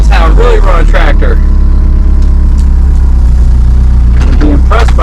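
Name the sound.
tractor engine running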